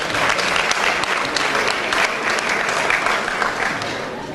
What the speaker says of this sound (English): We are applauding you tonight